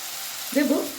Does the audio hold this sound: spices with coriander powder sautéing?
yes